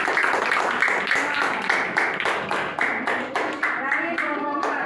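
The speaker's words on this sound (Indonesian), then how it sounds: "Tepuk tangan dulu." A class of schoolchildren clap their hands together in a classroom during a lesson, a brisk, fairly loud burst of many hands with lively chatter and voices mixed throughout.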